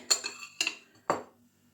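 Three sharp metallic clinks of a spoon against a dish while making horseradish with beet juice, spaced about half a second apart, close and fairly loud with short ringing tails.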